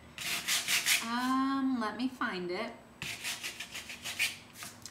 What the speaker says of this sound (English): while we're sanding